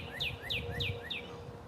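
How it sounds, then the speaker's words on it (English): Birds sing outdoors with a repeated chirping phrase, four similar downward-sweeping notes at a steady rhythm, heard moderately near and soft over a low background rumble, with no talking. "The birds are singing."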